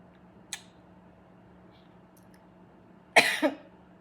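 A faint click, then a single short cough burst with a smaller follow-up, close by in a quiet room with a low hum.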